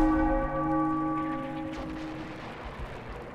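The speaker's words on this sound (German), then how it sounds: "Gib mir nochmal den Gong." A church bell in the Sniper Elite V2 video game tolls once with a loud, sustained metallic ring that slowly decays, while low rumbling booms of gunfire or artillery rise beneath it.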